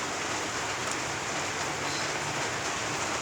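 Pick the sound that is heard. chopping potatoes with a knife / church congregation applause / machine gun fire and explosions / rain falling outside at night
rain falling outside at night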